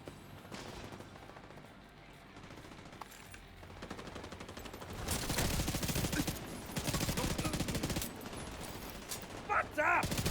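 Heavy turret fire in a shooter game, dense sustained bursts building from the middle onward, loud and continuous, with short pauses between volleys and a voice speaking near the end.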